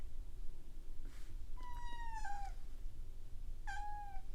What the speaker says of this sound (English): the cat apparently is unhappy with the conditions in the room right now